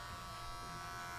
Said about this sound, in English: But now this is going to be your best friend. Clipper over comb.